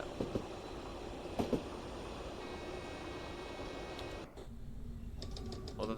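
Koploper train in a train simulator video game on the Zwolle–Groningen route in the Netherlands, a steady rolling rumble with rail clatter and a few brief clicks, continuous throughout with a short dip near the end.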